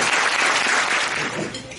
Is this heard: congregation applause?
yes